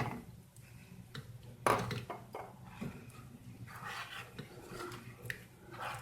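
A spoon stirs tarhana soup, seasoned with salt and dried mint, in a pot on the stove, giving soft repeated scrapes and light clinks against the metal at close range with no talking.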